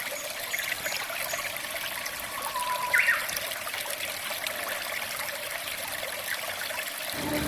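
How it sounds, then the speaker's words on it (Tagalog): Water pours over a small waterfall on the Palakol River in Floridablanca, Pampanga, a steady close rushing trickle that never lets up, with a brief high chirp cutting through once near the middle. "dito kami sa maliit na falls"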